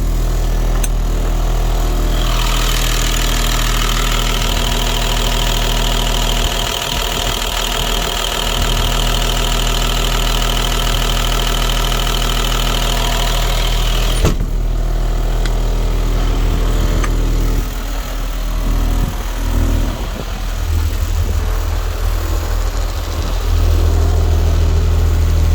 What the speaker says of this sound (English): Show you the cat motor quick.